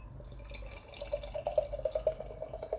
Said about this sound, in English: Let's pour the Kirsch.